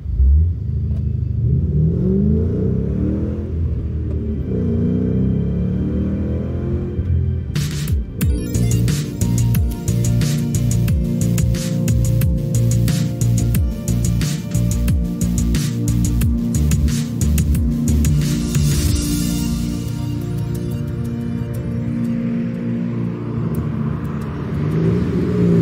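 A car engine drives and accelerates in a sci-fi street scene for an audio drama, a steady loud rumble that rises into revving whirs and holds throughout without any talk.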